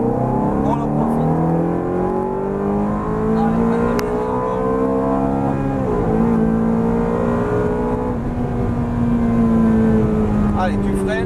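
A Ferrari F430 accelerating at full throttle on the Circuit de Chenevières race track, its loud engine note climbing steadily in pitch through the gears, heard close from on board.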